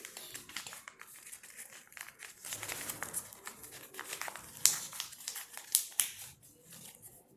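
Paper being folded and creased by hand while making a paper sword: a steady run of close crinkling and rustling with sharper crackles and snaps scattered through it.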